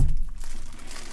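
A plastic sleeve holding the manual for a Behringer TD-3 synthesizer crinkles close up, a short burst of crackly handling noise that fades into quieter rustling.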